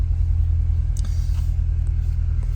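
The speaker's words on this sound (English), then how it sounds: "it'll change the exhaust tone" Exhaust of a 2022 Corvette convertible 3LT switched into performance mode, a deep, steady low rumble that holds close and loud throughout without any spoken voice.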